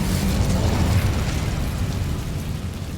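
A loud, sustained roaring whoosh of the Incendio fire spell in Hogwarts Legacy on Xbox Series X, a dense burst that slowly fades over a few seconds with no talk.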